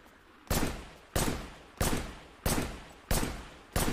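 Six single pistol shots from the video game Wanted: Dead, evenly spaced about two-thirds of a second apart, each a sharp loud crack with a short decaying tail, alone with no talk.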